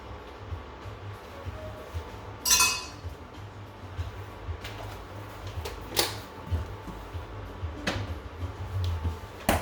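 Spoon clinking against a pot while stirring sour cream into four-cheese mac and cheese: several sharp, scattered metallic clinks over soft stirring noise, close by, with no talking.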